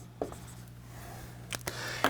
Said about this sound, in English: we're going to go ahead and put a big star in our notebook here, and we're going to write pendulum